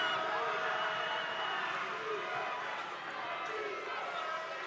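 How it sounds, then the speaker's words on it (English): Basketball arena crowd during a FIBA Melanesian Cup final between Papua New Guinea and Fiji, a constant loud roar of spectators filling the space, with a commentator talking over it. "Listen to the crowd in the background."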